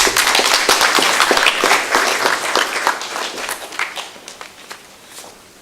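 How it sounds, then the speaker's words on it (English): Audience applause at a youth forum in Kahawa, a crowd clapping loudly and densely at first, then thinning out and fading toward the end, heard alone without speech. "Can we give him another clap, please?"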